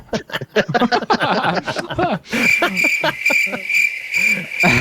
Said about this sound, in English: can't have a bunch of laughter then crickets